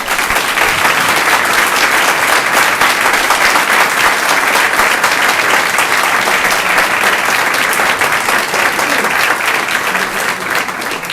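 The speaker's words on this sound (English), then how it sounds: "Patrick Henry College, please have a round of applause" Loud, sustained applause from a large audience greets the winning college team at a national championship round, a dense roar of clapping that holds steady for about ten seconds before easing slightly.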